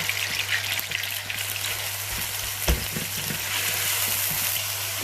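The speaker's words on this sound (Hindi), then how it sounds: "अब इसमें मैं ऐड करूँगी कीमा। इसको मैं अच्छी तरह से मिक्स कर लूँगी ऑयल में।" Minced meat (keema) fries in oil with a dense, even hiss, like rain on a surface, and one brief knock from a spoon mixing it in, under a steady low hum.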